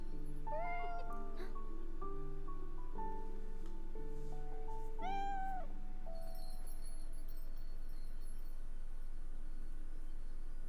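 A cat in the video game Beyond Eyes meows several times, short rising calls spread over a soft musical background, fairly clear and close with no talking.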